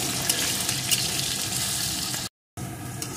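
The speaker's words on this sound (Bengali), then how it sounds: "আলুটাকে একটু লাল লাল করে ভেজে নেব।" Potato pieces frying in a pan, a loud, dense, continuous hiss of hot oil that cuts out briefly and then resumes.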